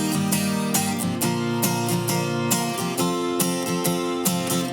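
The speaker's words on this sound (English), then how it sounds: "When you do boom chicka on these chords, you don't want to do all the strings all of the time always." Acoustic guitar played in a boom chicka pattern with every string struck on each stroke, a steady, dense and loud strumming rhythm of full ringing chords, close and alone without talk.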